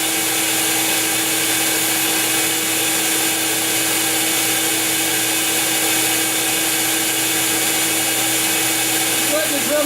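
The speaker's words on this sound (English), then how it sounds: "Just letting the Dremel do the work." A Dremel rotary tool grinding a windlass part, a loud, steady high-pitched whine that runs continuously and close without a break.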